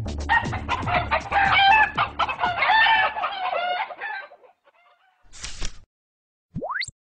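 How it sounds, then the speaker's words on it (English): A chicken sound effect: a busy run of loud, close clucks and squawks, then a pause, one short cluck and a final quick rising squeal. "Kinda like being a chicken in a coop, isn't it?"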